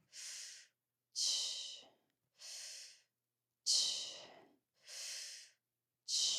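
Slow, deep breaths during an at-home yoga sculpt leg workout done in bed, six long airy inhales and exhales separated by brief silences, close and clear.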